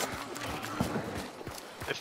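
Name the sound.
horse clip-clopping in the video game Hunt: Showdown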